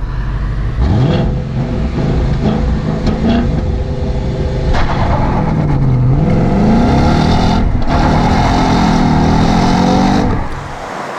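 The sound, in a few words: Ford Mustang GT V8 engine revving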